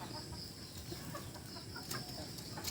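A free-range chicken feeding on a farm, soft low clucks and pecking noises, quiet and close, with faint rustling and some light background sound.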